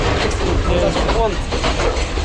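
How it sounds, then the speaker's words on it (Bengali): A train rumbles past on the adjacent track in Sri Lanka, a steady close clatter of rail wagons heard from aboard another train, with a voice briefly speaking over it. "ভাই এই পাশে আর একটা ট্রেন"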